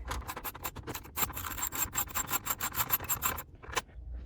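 Removing a Ford ashtray by unscrewing 7mm screws: rapid, rhythmic ratcheting clicks and scraping close by, steady for several seconds before stopping, with a single last click, no talking.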